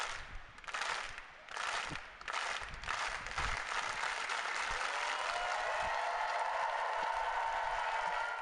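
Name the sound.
tennis crowd clapping after match point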